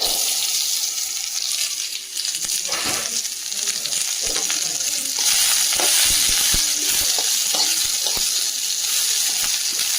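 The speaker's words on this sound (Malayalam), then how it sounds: "ഇതിലേക്ക് നമ്മൾ അരിഞ്ഞ് വെച്ചിരിക്കുന്ന ഉള്ളിത്തണ്ട് കൂടി ചേർത്ത് കൊടുക്കും" Chopped spring onion stalks added to a pan for a Kerala-style thoran, giving a steady close sizzle and frying hiss with soft stirring scrapes.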